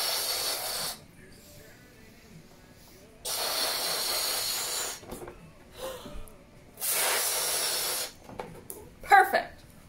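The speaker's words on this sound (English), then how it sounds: "He's blowing up a balloon right now." A balloon being inflated for a birthday, heard as three long hissing bursts of air separated by quieter pauses, with small knocks and handling noises between them and a brief sharper sound near the end.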